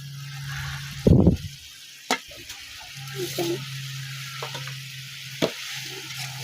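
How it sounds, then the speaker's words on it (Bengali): Spice paste of onion, garlic, ginger and cumin sautéing in a pan for a village-style snakehead fish curry, with a loud burst of stirring near the start, a few sharp scrapes, and a low steady hum underneath. "শোল মাছ রান্না করার জন্য সব মশলা দিয়ে এখানে কষিয়ে নিলাম"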